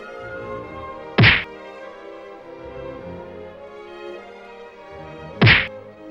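Two loud, sharp cartoon-style thwacks from a fight scene, spaced about four seconds apart over a low, steady background score, with no talking.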